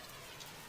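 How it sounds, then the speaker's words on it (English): Rain sound effect from the horror game The Mortuary Assistant, a dense steady hiss of falling rain heard alone for a brief moment. "the sound effect for the rain just kind of feels weird at this point"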